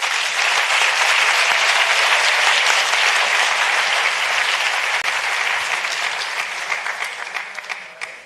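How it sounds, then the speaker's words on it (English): Sustained audience applause at the Science Forum South Africa opening plenary, honouring innovators and supporting institutions; dense, steady clapping from a large crowd that holds strong before gradually thinning toward the end. "please let us now give our exceptional innovators and the institutions supporting them a final round of applause"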